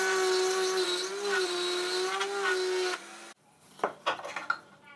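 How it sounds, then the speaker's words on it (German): A wood router makes a test cut for a 6 mm-high drawer groove, about 4.5 mm deep, in a wooden part. It whines loudly and steadily for three seconds, then cuts off abruptly, and a few faint knocks and clatters follow. "Dann mache ich eine Probefräsung."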